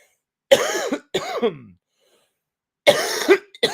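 A person with a phlegmy cough coughs in two short bursts, pauses about a second, then coughs again twice, close and fairly loud.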